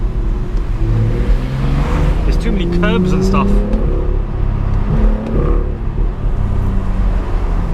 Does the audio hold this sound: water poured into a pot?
no